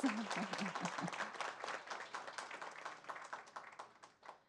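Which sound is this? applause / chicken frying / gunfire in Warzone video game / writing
applause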